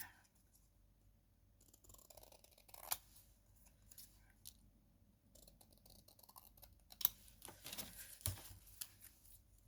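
Scissors snip through card during handmade card making with a craft kit, a few quiet, scattered cuts with soft rustling and handling of paper in between, close by and fairly faint.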